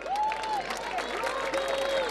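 Audience applause at a chamamé festival on the Paraná, a steady wash of clapping and crowd noise with a bright whistle-like tone gliding through it.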